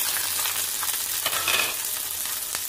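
Onions frying in hot oil for a country chicken curry, a steady close sizzle with faint stirring scrapes and no voices.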